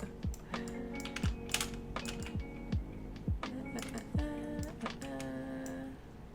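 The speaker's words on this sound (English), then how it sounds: "I use shortcut keys like nobody's business. I'm hitting the spacebar tool to navigate." Shortcut keys and the spacebar on a computer keyboard click in quick, irregular taps during Photoshop work. The keystrokes are close but quiet, with no talking.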